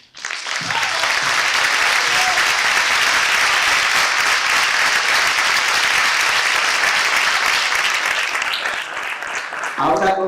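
Sustained, loud audience applause fills a concert hall during a music event about Al-Andalus, a dense continuous clapping from a large crowd that holds steady and fades near the end.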